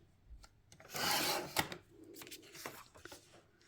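A sheet of paper is trimmed to a straight edge for a 12 x 12 scrapbook layout, a soft close rasping slide followed by a sharp snap and a few faint scrapes, with no voices.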